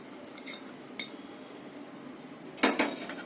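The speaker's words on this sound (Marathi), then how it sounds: "आता हे सगळं व्यवस्थित एकत्र करायचं आपल्याला।" A spoon scrapes and clinks against a bowl while ground spices, garam masala, salt and chopped coriander are mixed together. The sound is quiet and close, with a few light taps and a louder clatter near the end.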